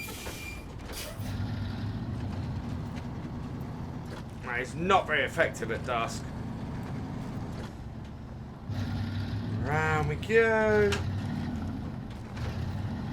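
A truck's engine drones steadily while driving downhill at dusk in the video game SnowRunner, a low continuous rumble with someone talking over it and a few sharp high beeping tones.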